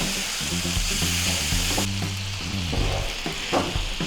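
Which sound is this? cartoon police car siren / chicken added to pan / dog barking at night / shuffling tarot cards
chicken added to pan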